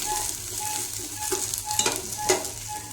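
Ridge gourd chutney ingredients, with tomato being added, frying in a pan: a continuous close sizzle with a few soft stirring scrapes and light clinks, fairly loud and without speech.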